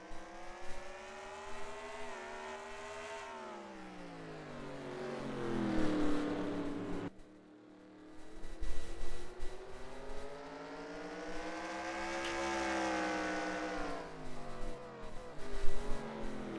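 Simulated stock cars race at Martinsville in a racing video game, engines droning and rising and falling in pitch as they accelerate and lift through the corners, loud and continuous with a brief dip midway.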